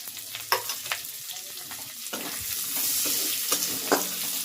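Onion added to a pan of oil tempered with cumin seeds and bay leaf sizzles quietly while a spatula scrapes and stirs it in several sharp strokes, close by, with no voices.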